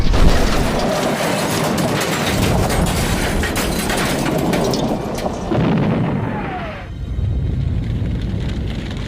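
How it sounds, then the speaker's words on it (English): A crash and explosion of a boulder striking an engine shed: dense, loud crashing and booming rubble for several seconds, then a brief sharp burst and settling clatter. "After hearing a crash and an explosion"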